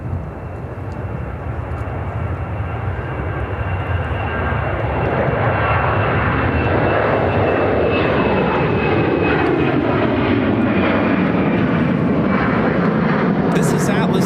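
An Atlas Air cargo jet arriving from Anchorage comes in to land at Chicago O'Hare. Its engine roar builds steadily and stays loud and near, with a whine and a Doppler sweep as it passes overhead.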